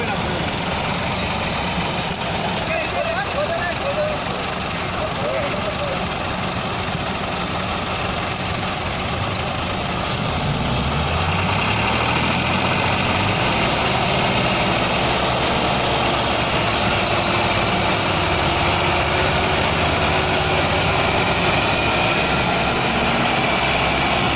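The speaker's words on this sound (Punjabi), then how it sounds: "ਸੋ ਇਸ ਟਾਈਮ 3 ਟਰੈਕਟਰ ਲੱਗ ਰਹੇ ਨੇ ਇਸ ਮਸ਼ੀਨ ਨੂੰ ਕੱਢਣ ਵਾਸਤੇ।" Three tractors haul a harvester machine stuck in mud, their heavy diesel engines roaring steadily and loudly throughout, with a deeper labouring throb in the second half and voices talking over it.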